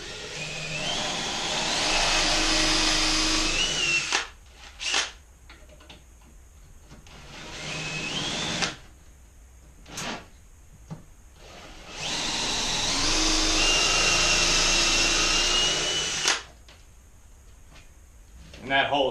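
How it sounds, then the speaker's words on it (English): A power drill bores a dowel hole into hard oak with a dowel jig, whining loudly in long sustained bursts with brief pauses between as the bit is pulled back out. "it's good with this hard oak to drill about halfway and then bring your bit back out just to get a lot of the shavings out"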